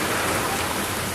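Heavy thunderstorm rain pours down, a dense, even hiss of drops striking surfaces, loud and close with no break or voices.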